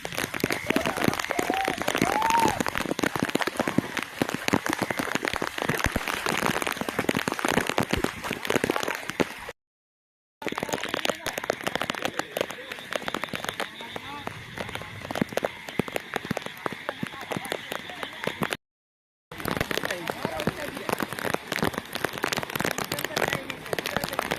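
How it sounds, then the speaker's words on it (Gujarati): Steady heavy rain pours down on a waterlogged village farm in a dense, continuous hiss, with a couple of brief dropouts and faint voices now and then underneath. "આમ જોવો ધોધમાર વરસાદ પડ્યો છે"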